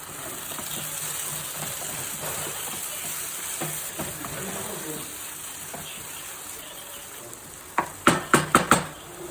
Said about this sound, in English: Add finely chopped tomatoes.